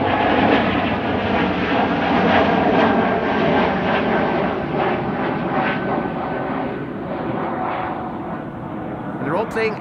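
Embraer 195-E2 jet at Amsterdam Schiphol Airport, continuous engine roar at steady loudness across the whole stretch, fairly close, with speech over it.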